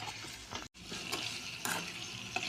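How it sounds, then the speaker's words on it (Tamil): Bitter gourd sautés in hot oil with a steady soft sizzle and crackle, broken by one brief silent gap and an occasional stirring scrape, fairly quiet and with no voices. "ஃப்ரெண்ட்ஸ் நல்லா வதக்கியாச்சு பாவக்காவை."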